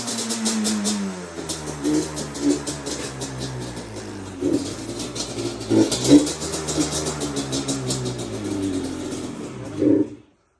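A Yamaha Banshee two-stroke engine runs at a high idle, a steady close-up drone with slight surges and a few sharper blips, ending abruptly as it cuts off.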